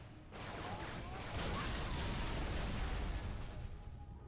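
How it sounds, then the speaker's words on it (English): A Halo 3 explosion erupts into a sustained roaring blast that holds loud for several seconds over dense game battle noise before thinning out. "You were too close to the explosion."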